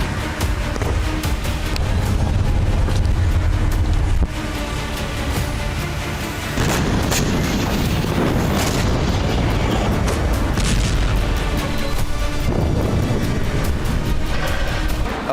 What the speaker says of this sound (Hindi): गोलन हाइट्स और उसके आगे के क्षेत्र में धमाके सुने जा रहे हैं